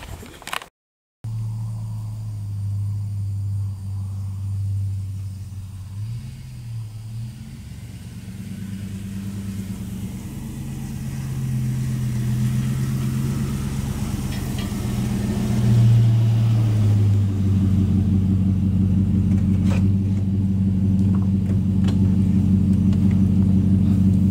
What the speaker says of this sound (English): Now, this truck isn't brand new. It's a 2006